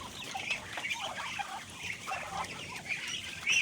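A large flock of pet ducks chatters and quacks at a steady, busy level, with many overlapping calls and a louder cry near the end, under a faint background hiss.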